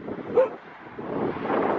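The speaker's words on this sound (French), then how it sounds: "elle aboie déjà" A dog barks outdoors in the morning, one short bark standing out over steady wind noise on the microphone, fairly close.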